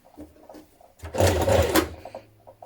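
A sewing machine stitches down, across the top of a garment hem and up the side facings. Faint stitching bursts give way to a loud, steady machine run of under a second, then it drops back to soft intermittent sounds.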